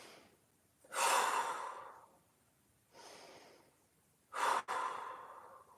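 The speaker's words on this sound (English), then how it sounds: "Big inhale." Deep breaths during a standing balance mobility exercise: a long loud inhale-exhale, a softer breath, then a sharp forceful double exhale, close to the microphone with no speech.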